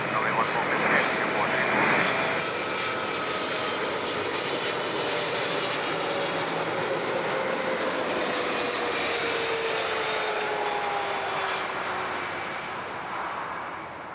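An airliner on approach to runway 14 at Zurich airport makes a loud, steady jet roar, with a slowly falling engine whine as it passes close by.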